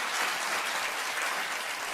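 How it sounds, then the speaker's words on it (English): A show audience gives sustained clapping, an even, fairly soft patter of many hands with no pause, heard at some distance and without speech. "The clapping."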